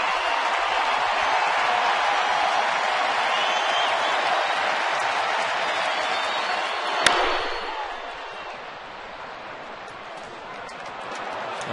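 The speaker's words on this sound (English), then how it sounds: "The crowd's so loud, Billy couldn't hear him yelling to him" A roaring baseball stadium crowd cheers loudly and steadily during a Phillies at Braves game in Atlanta, a dense wall of noise with a sharp crack midway before easing slightly.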